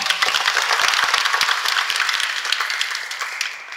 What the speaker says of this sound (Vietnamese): cho cha một tràng pháo tay